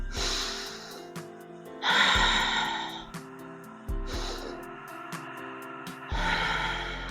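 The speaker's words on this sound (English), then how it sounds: "One more nice big deep breath in and a slow breath out" Deep, slow breathing during a yoga flow: long breaths in and out, several airy inhale-exhale cycles close to the microphone, alone with no talk.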